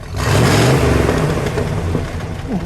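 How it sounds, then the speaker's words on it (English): A 1968 Pontiac Grand Prix two-door hardtop engine revs hard up close, a loud, continuous mid-pitched roar that climbs and falls through a couple of throttle blips with no talk. "Michael, give it a rev"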